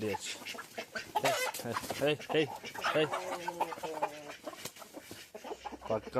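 Chickens cluck and chatter on an old farm, a lively mix of short calls close by, heard under someone talking throughout.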